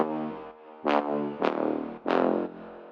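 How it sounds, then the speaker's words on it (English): A synth brass stab pattern with rich, bright chords hits in three swelling pulses over a deep house bass line with sidechained pumping, loud and alone with no voices. "it sounds also more like a synth brass"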